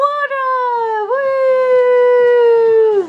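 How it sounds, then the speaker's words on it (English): A dog howls in one long, drawn-out wavering tone that dips and rises before trailing off, close and loud, with faint background sounds beneath. "And a dog."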